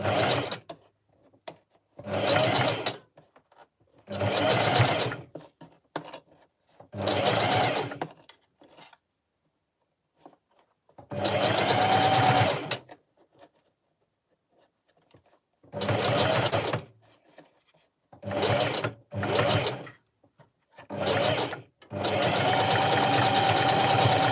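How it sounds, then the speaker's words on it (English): A sewing machine stitches in reverse to lock the seam while marking a wig, running in a series of short, loud bursts separated by pauses, with no talk over it. "This is the reverse. When I press that, it starts to stitch back."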